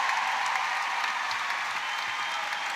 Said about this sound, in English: Look at the crowd here at the M&S Bank Arena.